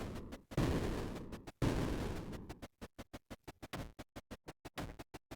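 Bombs hit enemies in Creeper World IXE, first two long rumbling blasts, then a fast, steady train of short sharp thuds, close and clear with no talk over them.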